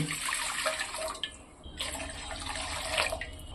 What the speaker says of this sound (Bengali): আমি কড়ার মধ্যে 2 মগ জল ঢেলে দিচ্ছি।